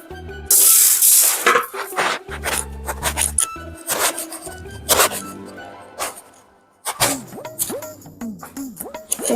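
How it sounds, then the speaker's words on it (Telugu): Rice is washed by hand in water, with irregular splashes, swishes and sloshing bursts spread through the clip. "బియ్యం కూడా ఫేస్ వాష్ చేసి గడుగుతా"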